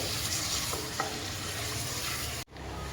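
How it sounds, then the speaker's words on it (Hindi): Bone-in chicken pieces frying in oil for hot and sour soup, a dense, steady sizzle up close with a couple of stirring scrapes and a brief break near the end. "अब हम चिकन को ऑयल में अच्छी तरीके से फ्राई कर लेंगे"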